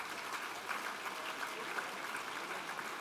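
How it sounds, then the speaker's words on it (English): A room of people applauding board members at an evening gathering, steady moderate clapping throughout with no one speaking. "So just give them a round of applause,"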